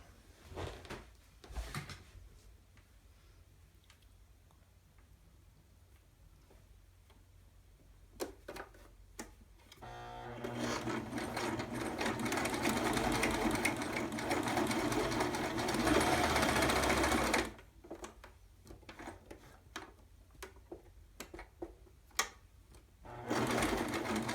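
Embroidery machine stitching trim onto an in-the-hoop towel topper, a steady loud mechanical whir that runs about eight seconds after quieter ticking and handling, then stops, with more clicks and a restart near the end.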